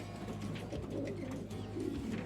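Racing pigeons coo steadily in low, rolling murmurs, several birds overlapping close by in an enclosed loft with a constant background hum.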